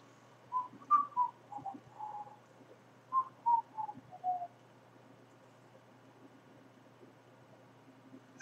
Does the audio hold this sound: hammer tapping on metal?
no